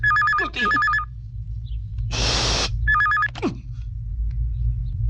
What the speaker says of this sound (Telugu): అర్జున్ గారి ఫోన్ ఏంటది?